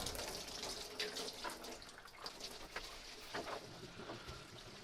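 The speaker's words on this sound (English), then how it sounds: "I'll drain the coolant. So I'll just go for the bottom hose" Coolant pours steadily from the pulled-off bottom hose of a Mini One R50/R53 Tritec engine, a faint continuous watery trickle and splash with a few small knocks.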